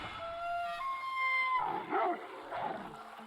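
Wolf in a competitive real-time strategy match giving a long, rising, wavering howl followed by a few short yips and growly barks, clear and fairly loud over faint game ambience.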